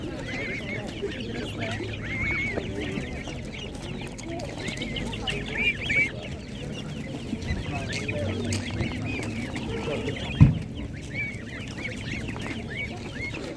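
Poultry at an outdoor market, chickens and geese clucking and calling faintly and intermittently beneath a busy crowd and background talk.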